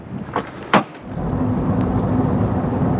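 A Rover 200 Vi cruises at 50 mph along a country lane, with a steady broadband road and engine rumble filling the cabin after a couple of brief thuds at the start.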